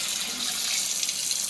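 Tap water runs in a steady, hissing stream, filling a cheap DIY water filter with ceramic elements, close and continuous with no talk.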